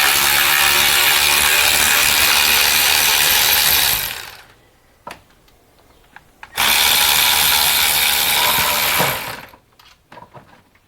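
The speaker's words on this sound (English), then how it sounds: "Make sure your ratchet is straight." A power ratchet whirs loudly in two long, continuous bursts, undoing a Mercedes Sprinter exhaust bracket between the transmission and the DPF, with brief metallic clicks and knocks in the quiet gaps between.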